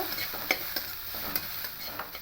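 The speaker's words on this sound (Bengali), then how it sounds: "তার সব তরমুজগুলো দিয়ে দিলাম দিয়ে এবার খুব ভালো করে এবার নেড়ে চেড়ে নেব" Watermelon rind chutney is stirred in a frying pan, giving a soft, steady sizzle broken by a few light scraping strokes of the spoon. No voices are heard.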